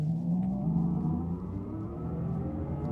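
A Mercedes-AMG EQE 43 electric car pulls away at full throttle, a steady low rumble and rising whine building evenly close by, with no talk.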